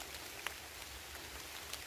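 Rain falls on a mountainside during mushroom foraging, a faint, steady hiss of drops with a few brief louder patters and no voices.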